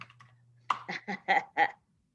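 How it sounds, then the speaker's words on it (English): Short burst of typing on a computer keyboard, five or six distinct clicky keystrokes in quick succession close to the microphone, then silence, with a faint low hum underneath. "Don't watch me typing."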